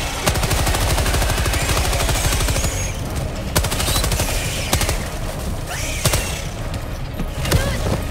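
A turret in a video game fires rapid bursts of gunfire, loud and continuous with sharp individual shots popping through the dense rattle.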